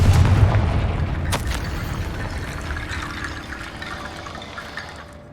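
In the video game Hogwarts Legacy, a Confringo blasting spell explodes inside a tomb with a deep boom up front, then a sharp crack and a long rumbling decay that fades away.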